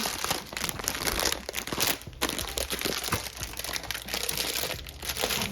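Plastic spaghetti packaging being torn open and handled in a kitchen, a steady run of close, loud crinkling and crackling with sharper tearing bursts, no talking.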